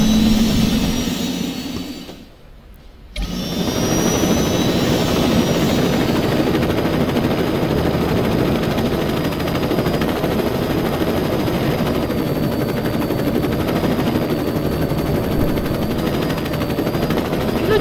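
A helicopter in the video game Saints Row 2 drones loudly and steadily with a thick rotor roar that cuts out briefly near the start and then continues unbroken.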